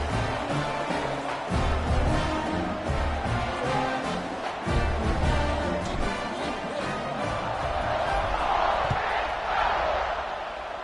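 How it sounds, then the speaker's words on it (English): A stadium crowd in the College Football 26 video game buzzes after a score, a steady, dense roar of cheering that holds at an even level throughout with a few louder swells. "this crowd is buzzing after that last score"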